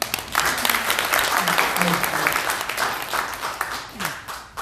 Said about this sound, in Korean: 그 객석에서 박수도 나오시고 그랬습니다